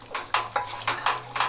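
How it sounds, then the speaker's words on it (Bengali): A utensil scrapes and clinks against a pan as chana masala with tomato sauce is mixed, several quick strokes in close succession, no talking. "এবার ভালো করে মিশিয়ে নেব।"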